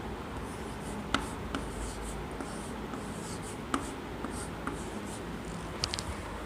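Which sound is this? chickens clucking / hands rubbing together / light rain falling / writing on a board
writing on a board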